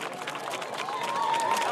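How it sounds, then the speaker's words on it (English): A crowd cheers and applauds sailors at a dock-out parade in Cardiff, a steady wash of clapping and voices that holds at the same level for the whole moment. "Let's give them a cheer."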